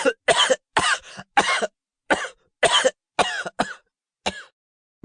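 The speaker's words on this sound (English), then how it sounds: "How long have you had that cough?" A harsh, wet cough repeats in a rapid fit of about ten spasms in a dramatized horror story reading by Poe, bursts close and loud with brief gaps between them.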